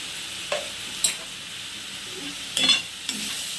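Chicken momo filling fries in oil with a low continuous sizzle, punctuated by a few sharp spatula scrapes and stirring clatters against the pan.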